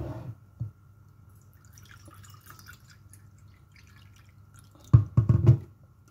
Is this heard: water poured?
yes